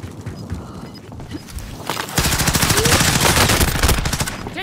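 Automatic gunfire in Call of Duty: Modern Warfare erupts after a quieter stretch of scattered shots, becoming a loud, rapid stream of bursts that continues steadily to the end.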